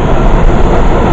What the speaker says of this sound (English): here comes the train, so I'm gonna jump on